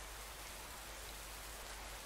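Steady, even rain falls in the WCUE video game, a dense continuous hiss with no breaks or voices.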